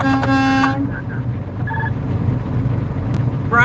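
A truck's stock horn sounds in a convoy, a loud, close blast with a harmonic tone followed by a couple of short toots, over steady engine rumble and road noise.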